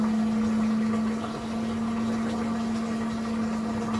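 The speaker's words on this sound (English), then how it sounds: "With 17 minutes remaining, we are draining for the final spin." An LG WM4000HWA front-load washer drains before its final spin, giving a steady, close electric pump hum with a low mechanical rumble beneath.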